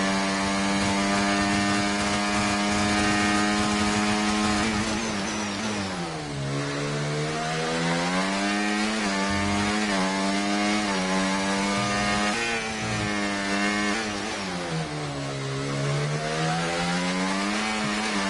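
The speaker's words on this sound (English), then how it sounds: "It's like the sound of the car is so bad." A Formula 1 race car engine in the F1 24 video game, driven flat out on a time trial lap, screams at high revs, dropping and climbing through gear changes, loud and continuous with no voices.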